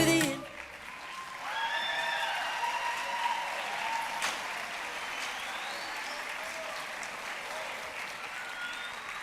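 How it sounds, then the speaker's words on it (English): School spring band concert audience cheering for high school seniors: a brief opening sound, then sustained crowd applause with whoops and shouts over it, holding steady and fairly loud to the end. "let's give one more huge round of applause to our 2022 Springdale High School seniors"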